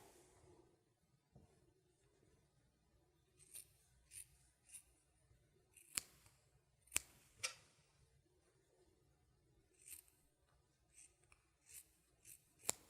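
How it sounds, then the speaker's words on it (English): Scissors snip through fabric, trimming the edges of a sewn bowl cozy: a series of short, crisp cuts spaced irregularly over a quiet room, with several sharper snips standing out near the end. "I'm just going to go ahead and trim these off on all 4 sides on both of the pieces."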